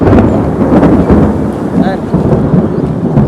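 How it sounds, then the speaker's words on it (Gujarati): Thunder rumbles with steady rain falling over farm fields, a continuous dense wash of noise with low booming swells throughout, close and loud, with faint wind buffeting the microphone. "ફાઇનલી તો વરસાદ ચાલુ થઈ ગયો છે પાછો"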